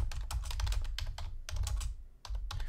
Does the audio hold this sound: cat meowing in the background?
no